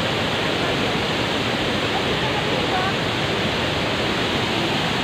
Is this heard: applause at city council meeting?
no